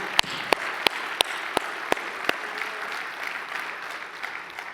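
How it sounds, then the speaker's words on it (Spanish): A church congregation claps at a Spanish-language sermon. Loud, evenly spaced single claps open it, then give way to a softer, steadier spread of applause that tapers off toward the end. "Dale un fuerte aplauso al Señor, iglesia."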